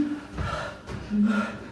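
A man imitates heavy breathing as if he has just been running, with two loud, close, breathy gasping pants and no words.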